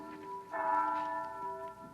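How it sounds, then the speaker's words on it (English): A church bell at St. Boniface rings within a radio drama scene, its sustained tone swelling briefly in the middle and then holding on as a steady ring, with no talk over it. "That's the bell at St."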